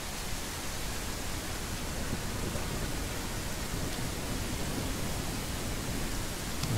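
Steady, dense rain falling inside a small dynamic weather zone of a game engine landscape demo, a constant broadband hiss with no pauses or voices, even in loudness throughout.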